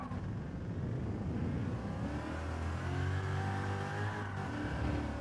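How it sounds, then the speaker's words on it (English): A racing car engine revs out in Gran Turismo 7, a steady loud mechanical roar climbing in pitch through the gears, with no voices over it. "Revving it out then."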